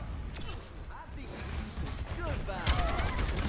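Rapid gunfire and impacts in Overwatch 2 beta combat, with dense crackling bursts that grow louder near the end while a player talks.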